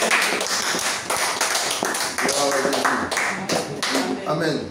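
A church congregation claps in steady rhythm at a Sunday service, loud and close, under continuous singing and spoken praise.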